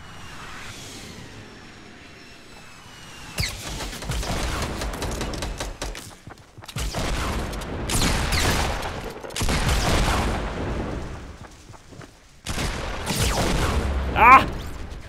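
Explosive grenade launcher fire in the Fortnite Battle Royale video game, several loud booming bursts in quick clusters with short gaps between them, while a person talks over the action.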